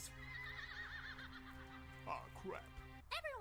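Horse whinny in a game scene, a rising, wavering neigh carried over steady background music, with short voiced bursts and a second brief cry near the end.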